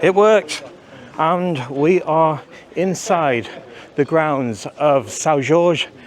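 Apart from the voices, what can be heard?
No distinct noise like a dog, phone or traffic.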